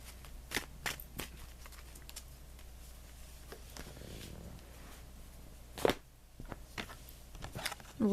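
Tarot cards being shuffled by hand in a quiet room, soft riffling bursts and taps at irregular intervals, close and fairly faint.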